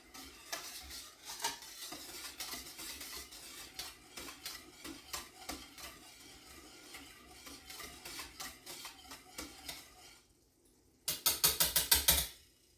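A spoon stirs a simmering pot on a stove in rhythmic scraping strokes under a soft bubbling hiss, pausing briefly before a final quick burst of vigorous stirring.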